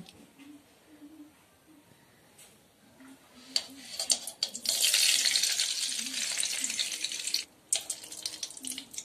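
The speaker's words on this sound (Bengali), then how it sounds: "এখন কড়াইতে দিয়ে দেব অল্প পরিমাণে তেল ও 2 চামচ পরিমাণ ঘি" Oil and two spoons of ghee heat in a kadai, giving a soft hiss that swells into a louder, steady sizzle partway through, with faint clinks early on.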